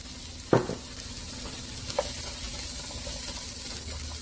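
Onion fries in oil in a pan over medium-high heat for Chinese-style fried rice, a steady soft sizzle broken by a sharp clatter of stirring and a lighter clink a moment later.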